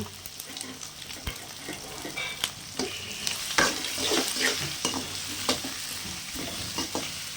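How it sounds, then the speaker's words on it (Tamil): Capsicum and onion stir-frying in a pan for pasta, with a steady sizzle under repeated scraping and clattering stirs that come as sharp bursts throughout, close and moderately loud, with no talking. "குடமிளகாய் அப்புறம் பெரிய வெங்காயம் எல்லாத்தையும் போட்டுக்கலாம் போட்டுட்டு ஒரு கலர் கலையிடுங்க"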